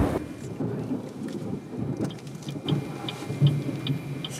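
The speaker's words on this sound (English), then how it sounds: "It feels like this thunder and lightning crazy storm." Thunder rumbles low and heavy through a rainstorm, with steady rain hiss and a few sharper crackles and taps on top.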